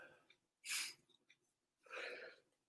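A single sharp, loud sneeze bursts out alone, followed by a short pause and then a second breathy exhale or sniff-like outburst, close to the microphone.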